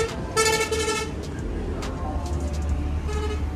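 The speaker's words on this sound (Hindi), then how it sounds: "बिना वजह हॉर्न मारते जाओ" A car horn toots a couple of times over rumbling traffic, with voices in the background.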